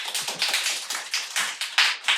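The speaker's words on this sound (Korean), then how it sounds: "큰 박수" A university audience at a history-hall talk concert at Hanyang University claps steadily in dense, close bursts that swell and dip for about two seconds, with no voices over it.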